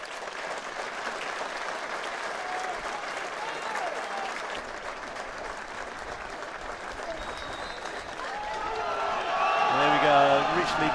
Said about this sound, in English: Richly deserved 1 minute's applause for Alan Couch, former Wealdstone club secretary